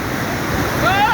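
Floodwater rushing into farm fields during a severe flood: a loud, continuous roar of churning water up close, with a faint tonal sound rising near the end.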